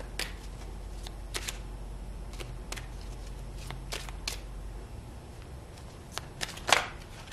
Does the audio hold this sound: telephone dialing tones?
no